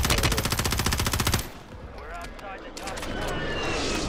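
Video game machine gun firing a fast, sustained automatic burst for about a second and a half, loud and close, then cutting off to quieter background noise.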